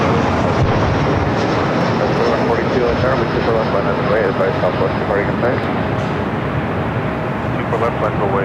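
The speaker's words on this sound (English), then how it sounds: "It's an A321 Neo with Hawaiian Airlines." A Hawaiian Airlines Airbus A321neo heading for Kona produces a steady, loud broadband engine roar that fills the whole stretch without letting up, and a voice talks over it.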